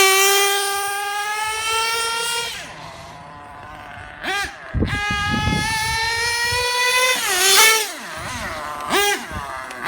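A Marky D's DYN.28 nitro engine in an RC car revs loudly with a buzzing, rising and falling whine while a front tire spins freely, with several throttle blips and drops, close and dominant, with no talk.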